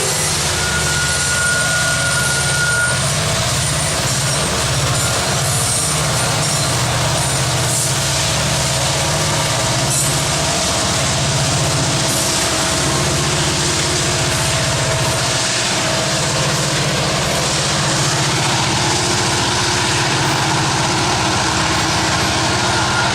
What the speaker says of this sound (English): Here we see a loaded coal train headed east with 2 EMD SD60Ms on the head end and 4 EMD